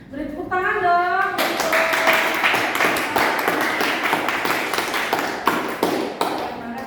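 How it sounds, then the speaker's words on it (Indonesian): Applause and clapping from a school audience after a high school scientific paper presentation, dense and sustained for several seconds, with a voice briefly heard at the start. "Beri tepuk tangan dong."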